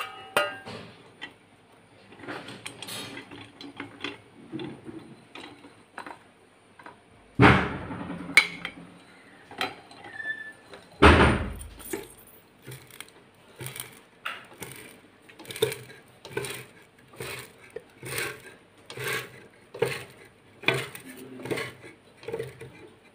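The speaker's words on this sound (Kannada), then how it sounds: "ಇದನ್ನು ಇದಕ್ಕೆ ಸೇಮಿಗೆ ಮಣೆಗೆ ಹಾಕಿ ಈಗ ಒತ್ತಿಕೊಳ್ಳಬೇಕು" Rice noodle dough for Mangalore-style semige is pressed through a wooden semige press, giving irregular knocks and clacks of wood, then a run of evenly spaced creaks and taps as the press is worked, close and moderately loud.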